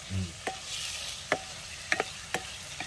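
Tomatoes fry in a pan for a dried-fish curry while a spoon stirs them, a soft steady sizzle broken by several sharp scraping clicks of the utensil against the pan, close and fairly quiet with no talk.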